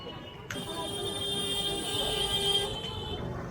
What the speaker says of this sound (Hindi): एक प्रॉब्लम यहाँ पर हॉर्न की भी है,